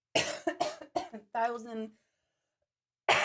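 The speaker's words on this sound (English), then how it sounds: "It's so annoying. This cough." A voice speaks briefly, followed by a short burst of coughing and a harsh cough-like sound, then silence and another cough.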